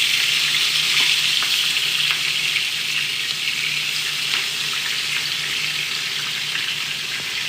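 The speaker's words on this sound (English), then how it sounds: "So I'm going to pop my pork chops in. Okay. You want to always wait until your oil is hot so you can get a good sear." Pork chops sear in hot oil in a pan, giving an even, loud, continuous hiss and crackle that holds throughout without any talk.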